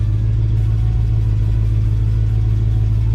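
A classic muscle car engine just started and idling, a loud, close, steady low rumble with an even throb and no talk over it.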